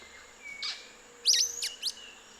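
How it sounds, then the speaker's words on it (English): Sulfur-bellied flycatcher singing in summer in Oaxaca: a few short, bright squeaky chirps, one faint note then a louder cluster of sharp paired calls, at mid distance over a quiet background. "A sulfur-bellied flycatcher."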